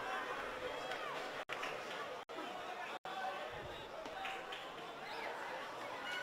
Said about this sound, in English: You heard the crowd rise in anticipation.